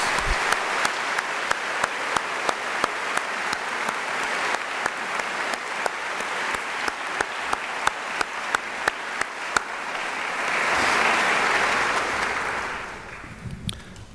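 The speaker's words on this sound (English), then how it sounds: "So could I please ask for your applause to recognize these outstanding leaders?" Audience at a medical school white coat ceremony applauds: sparse, crisp individual claps build into steady clapping, swelling briefly toward the end before fading away.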